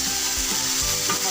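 Chili-powder spice masala frying in a pan with a little water, a steady close hiss and sizzle with a few low stirring scrapes.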